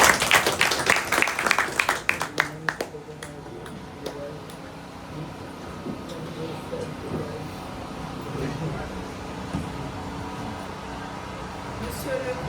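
Applause from the gathered guests at an official installation ceremony for a new local administrative team, strongest in the opening three seconds as a burst of clapping, then fading into a murmuring room with scattered background noise.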